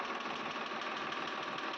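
Swaraj 735 FE tractor, a new 2025 model fitted with added pipes, running steadily at idle with a close, constant, rough engine rumble and knock and no talk.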